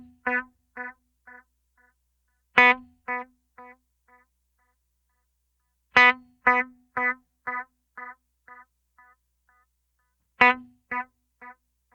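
Electric guitar through a Line 6 Pod Express analog delay, single plucked notes each trailed by a decaying series of evenly spaced repeats, played cleanly and alone in three phrases.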